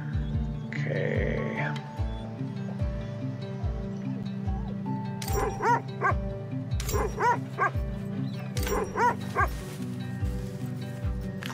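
Several dogs bark and yip excitedly at feeding time in the sled-dog game Red Lantern, with repeated sharp barks and whimpers over a steady low rumble, fairly close and continuous.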